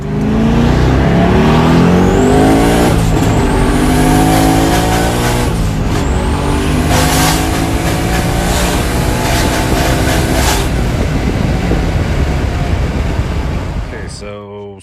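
Nissan 300ZX Z31 turbo with an LS swap accelerating hard from 60 to 130 mph, engine note climbing through repeated upshifts and roaring loud and close throughout, easing off only at the very end.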